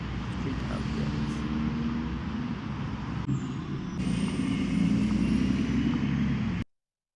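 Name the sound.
street ambience sound effect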